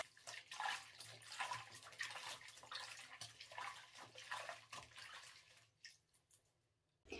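A goat-down garment is hand washed in a basin of soapy water, giving continuous close sloshing and swishing with rhythmic surges as it is pressed, fading to a few quiet drips and splashes at the end.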